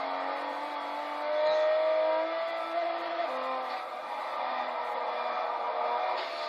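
Race cars at the ITC 150th Anniversary race driving through a section of the track, engines holding a steady, modulated drone as throttle is fed in and eased off, with a swell midway and continuous mid-distance engine tone throughout.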